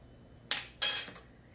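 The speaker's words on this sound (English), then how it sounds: "So I'm pouring in the cheese sauce and stirring it up." Two short metallic scraping clinks of a utensil against a dish while cheese sauce is stirred into baked macaroni, the second louder and longer, with quiet between.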